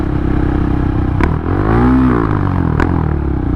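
A KTM Duke 690 motorcycle engine revs hard and loud. The pitch swoops up and back down as a misshift drops it into false neutral, with sharp clicks at the gear changes before and after.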